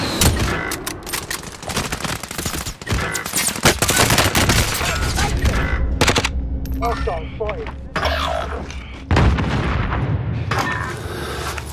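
Bursts of automatic gunfire and booming shots from a Call of Duty firefight, loud and dense throughout, with a voice calling out over the shooting.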